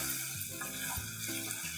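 Chicken being stirred and fried in a pan with spinach for a palak chicken gravy: a continuous close sizzle with soft scraping stirs, steady and moderately loud.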